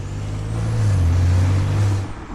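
A BMW F10 535i with a valvetronic exhaust and catless downpipe gives a loud, steady, deep droning rumble up close. It swells slightly and then eases off, with no voices.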